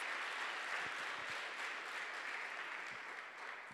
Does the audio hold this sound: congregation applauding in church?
yes